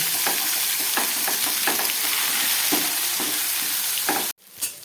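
Ginger paste and spices fry in a pan for a Bengali potato, cauliflower and pointed gourd mixed vegetable dish, giving a steady loud sizzle with repeated scraping stirs before cutting out abruptly near the end.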